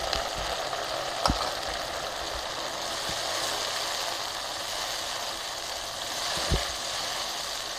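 Ginger garlic paste sizzles in a pan with browned onions, a steady even frying hiss with a few faint clinks and taps of a utensil.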